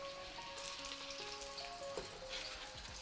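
Garlic and onions sizzling in oil for fried rice, a dense continuous frying hiss close by, with faint tonal kitchen hum running underneath and no talking.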